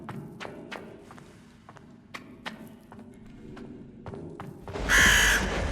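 A crow caws repeatedly in the horror game Dead Format, sharp separate calls spaced irregularly over a low ambient drone, ending in a loud burst of noise.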